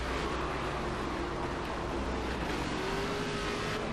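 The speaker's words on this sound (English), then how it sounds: "Oh, that's a realistic wreck." A race car in the NASCAR 25 video game wrecks amid dense, continuous engine roar and broadband crashing noise that stays loud for the whole stretch.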